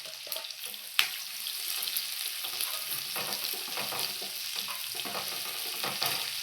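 Onions tipped into hot oil with browned garlic set off a steady, close sizzle. The frying holds through the whole stretch, with a sharp clatter near the start and light stirring scrapes throughout.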